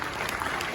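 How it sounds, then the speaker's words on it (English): Audience clapping for the teachers at a school annual day event, a dense, steady wash of applause filling the short moment with no gaps. "can we clap for the teachers once again?"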